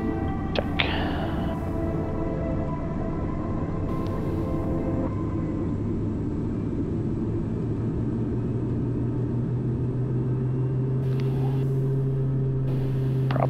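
Turboprop airliner engines run at takeoff power as the plane rolls down the runway, a steady, loud droning roar with layered humming tones and a couple of brief clicks.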